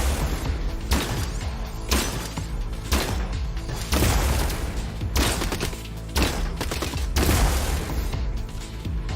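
Rapid, repeated heavy blasts from a shotgun robot attacking an enemy in Gladiabots, loud and dense with a booming thud roughly every second over a continuous rumbling bed.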